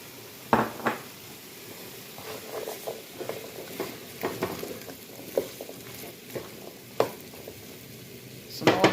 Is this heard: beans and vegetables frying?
yes